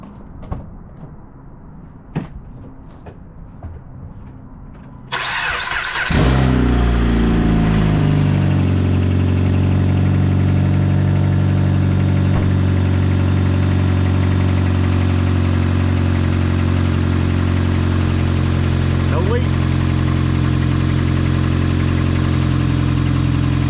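A Jeep Compass engine cranks and catches after an oil pan gasket and drain plug replacement, then settles into a loud, steady idle that continues alone after a quiet workshop start.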